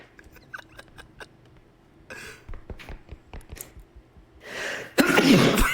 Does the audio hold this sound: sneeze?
yes